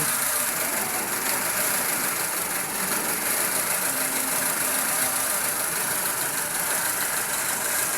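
A Honda Civic engine runs with a misfire, a rough, uneven idle with irregular knocking pulses and shaking vibration, heard close and fairly quiet with no talk over it.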